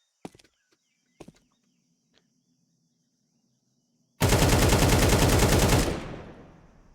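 A few sharp gunshot cracks from Counter-Strike 2 come first, then a loud sustained automatic burst sprays bullets at the floor for about two seconds and trails off into echo.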